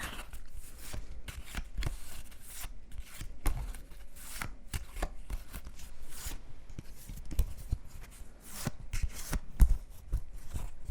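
7 Wonders board-game cards being shuffled up close, a continuous run of quick riffling flicks and soft slaps with irregular bursts, quiet and intimate, no talk.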